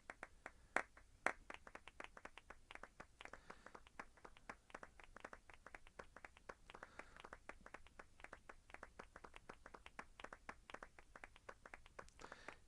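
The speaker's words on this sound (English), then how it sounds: "Yay for sarcastic clapping." Sarcastic clapping in a Final Fantasy game, a long run of faint, separate hand claps with a loose, uneven rhythm that goes on for several seconds, with a couple of sharper claps near the start.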